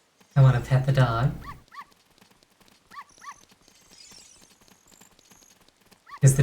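Dog from Ocarina of Time, a short run of small synthesized yips and whimpers between bursts of speech, with a clopping game effect and bright chimes in the background.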